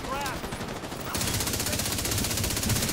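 Rapid automatic rifle fire in The Division 2, a lightweight M4-style gun, rattles out in a steady continuous burst after a brief quieter lead-in, loud and close.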